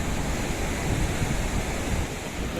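Surf rolls in at Kovalam Beach in a continuous loud roar, mixed with wind buffeting the microphone. No voices are heard.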